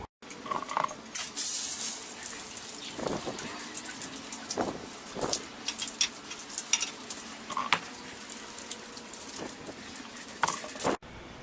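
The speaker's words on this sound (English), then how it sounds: "I'm gonna start rinsing it off, and it'll be ready to start applying the paint." A water hose rinses a coated floor before painting, a steady hissing spray that sweeps back and forth with irregular splashing surges and a few sharper spatters, close and without talk.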